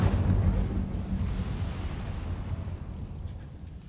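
A fire spell cast in the Hogwarts Legacy video game erupts with a loud, rumbling whoosh that peaks at the start and then settles into a steady roar of flames.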